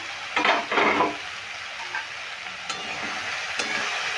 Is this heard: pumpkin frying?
yes